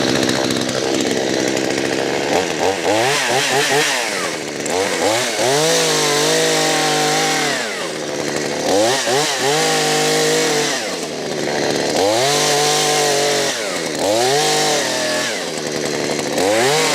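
A chainsaw cuts down shrubs in a workshop yard, its engine revving up and down in repeated loud bursts of rising and falling whine over a steady idle, close by and with no talking.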